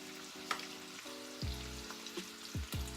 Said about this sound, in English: now that my sausage is cooked down a bit